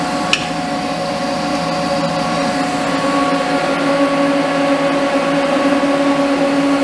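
A milling machine cuts a mold insert for an injection mold with a 1/8 inch flat end mill, giving a steady, continuous whine with sustained tonal hum and a brief sharp tick near the start.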